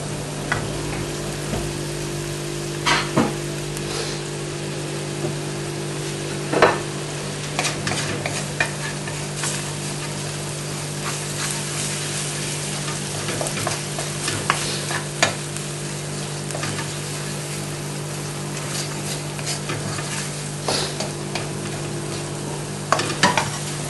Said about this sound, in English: Keep that stirring through. Careful it doesn't catch.